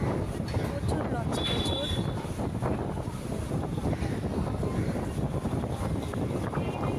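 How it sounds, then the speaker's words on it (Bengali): A motor launch cruising on a river in the Sundarbans, its steady engine drone mixed with rushing water and wind buffeting the microphone, with people talking faintly in the background. "এই লঞ্চটায় যে আমরা দুটো লঞ্চ পাশাপাশি হয়ে গেছি"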